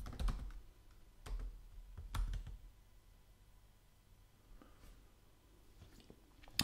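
A username and password go in on a computer keyboard as soft, quick, uneven clicks, close up and fairly quiet, with short pauses between bursts of keystrokes.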